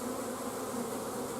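Honeybees from a nuc being installed into a hive produce a continuous, dense buzzing drone, steady and close, with no voices over it.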